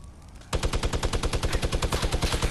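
Rapid automatic gunfire in Fortnite, aimed at an enemy, bursts in suddenly after a quiet moment and continues as a steady, fast stream of loud, close shots.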